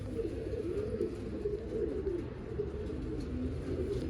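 Pigeons cooing at a pigeon sale in Bangalore, a continuous low burbling coo from several birds close by, steady throughout with no speech.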